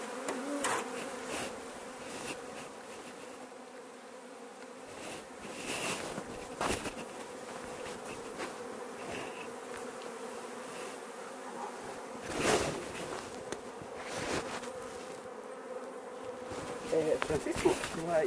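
Apis honeybees buzzing during a hive split using the X method, a steady dense insect drone with occasional louder passes near the microphone, continuing without speech throughout.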